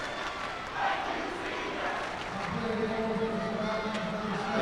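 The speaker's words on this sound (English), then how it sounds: "And you heard the crowd chant, "Thank you, seniors," to both sides." Arena crowd at a girls' high school hockey championship at TD Garden chanting "Thank you, seniors", a sustained rhythmic roar of many voices heard at a distance, swelling steadily through the clip with no nearby speech.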